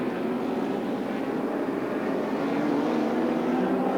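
A helicopter hovering over the 1986 Castrol 500 touring car race at Sandown Park, a steady droning engine and rotor hum with a constant mid-pitched tone, continuous and moderately loud, with no voices.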